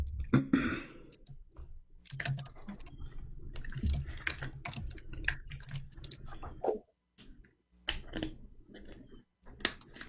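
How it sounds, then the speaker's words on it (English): Rapid, uneven clicking of a computer keyboard being typed on close up, in irregular bursts with a couple of brief pauses, and no talking over it. "He's fighting the keyboard."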